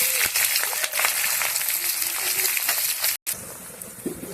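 Onion goes into hot oil already seasoned with cinnamon, cloves and cardamom, giving a loud, dense hiss of frying that continues steadily, with a brief break, close at hand.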